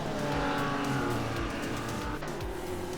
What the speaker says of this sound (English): Gamer Boss in the only car in the race that is not rear-wheel drive. Little front-wheel drive Mini.